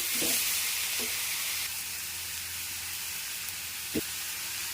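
Precooked beetroot frying in a pan with garlic and chili powder makes a soft, even sizzle and hiss, with a few faint stirring knocks now and then and no talk.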